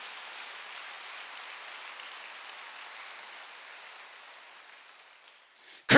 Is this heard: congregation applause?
yes